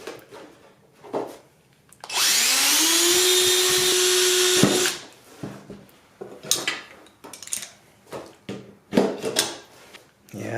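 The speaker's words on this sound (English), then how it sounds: "I'm going to keep drilling these out every other hole or so." Power drill bores holes through a Sonex aircraft elevator part, one sustained whine rising in pitch then holding steady for about three seconds before cutting off, followed by scattered clatter and handling noises.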